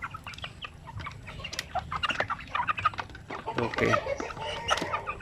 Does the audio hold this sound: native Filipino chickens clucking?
yes